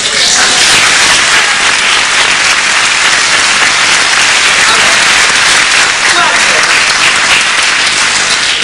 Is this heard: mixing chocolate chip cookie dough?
no